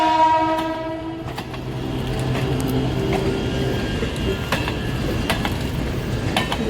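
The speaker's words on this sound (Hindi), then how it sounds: "ये भी एक ट्रेन पूरी खाली जा रही है" Empty train rolling past on the tracks, a loud steady rumble with a horn tone fading at the start and sharp wheel clicks scattered through.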